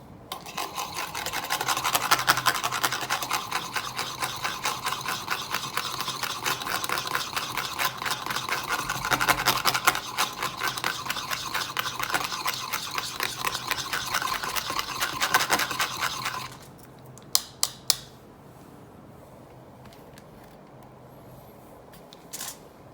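Hair dye is mixed briskly in a bowl for colouring over bleached hair, giving a close, rapid rhythmic scraping and whisking that runs steadily for about sixteen seconds, then stops with a few faint taps and near silence.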